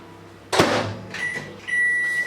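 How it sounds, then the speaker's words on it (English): A microwave oven melting dairy-free spread: a sharp door or button clunk, then the low steady hum of the running oven, with a faint electronic tone sounding near the end. "I'm now just going to microwave this for around 30 seconds and it should be melted."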